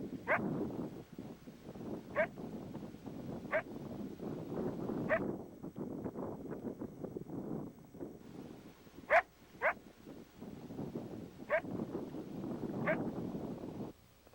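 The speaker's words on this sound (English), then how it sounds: "listen to a coyote making some loud, aggressive barking sounds" A coyote gives a series of sharp, coarse barks spaced a second or two apart over faint background rumble and wind, somewhat distant.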